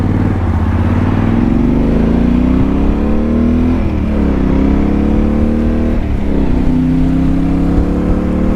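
A motorcycle pulls away from a roadside layby on a long ride in Sweden back from Nordkapp, its loud, close engine revving and climbing in pitch through several gear changes.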